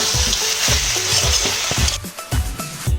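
Cauliflower and potato samosa filling is stirred in a hot frying pan with spices and fried peanuts, bringing a steady loud sizzle and repeated scraping strokes of a spoon against the pan; the sizzle drops away near the end while the scraping continues, close, with no talk.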